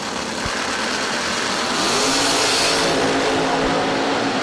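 Drag racing engines of a Camaro and a wagon rumble loudly and steadily at the starting line, a dense roar that swells slightly midway with a revving rise.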